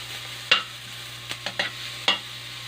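Onions sauté in a pan for sinigang, a soft steady sizzle broken by a few sharp scrapes of stirring, with a low hum underneath.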